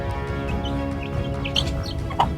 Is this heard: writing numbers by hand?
no